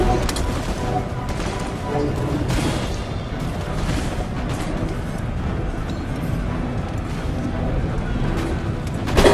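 Ranks of infantry fire volleys while advancing in an Empire: Total War battle between American and British troops, a dense crackle of musketry and distant booms rolling continuously, with a voice speaking over it.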